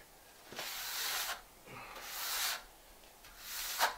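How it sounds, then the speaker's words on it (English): Steel trowel smoothing fresh mortar over a float on a curbless shower slab, giving soft broad scraping strokes in a few separate passes, close up, with no talk. "Just use another trowel."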